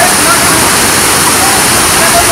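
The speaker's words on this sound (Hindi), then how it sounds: "फिर पानी स्पीड में गिर रहा है" Lakhaniya Dari waterfall near Ahraura, Mirzapur, water falling at speed, a loud, steady, close roar of rushing, crashing water that fills the whole clip without pause.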